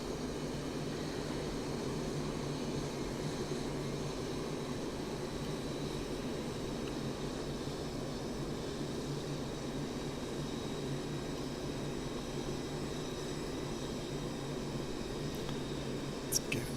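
Steady, broadband jet roar from a Mirage F1 flying in DCS while it slows for landing, a constant drone unbroken for the whole stretch, with a brief click near the end.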